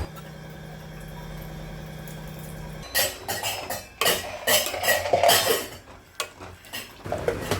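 A spoon stirring fish curry with added water in a pot, irregular scraping and clattering strokes against the metal that follow a steady low hum, moderately close with no talk.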